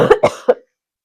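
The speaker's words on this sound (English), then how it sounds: "a little cough break there." Three quick, close coughs in a row from an unwell person, harsh and loud, each burst shorter, ending abruptly in silence.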